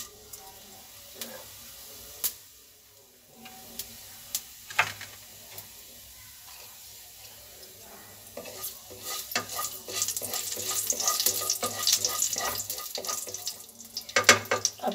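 Cumin seeds sizzle in hot oil in a home kitchen while samosas are being made, a faint crackle at first that builds into a louder, steady frying hiss with sharp clicks of stirring.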